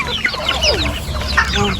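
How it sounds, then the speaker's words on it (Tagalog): Several backyard chickens cluck and squawk near the microphone while being fed in a homemade coop, with overlapping calls over a steady low rumble and a voice speaking briefly. "Oh, you got a lot of chicken."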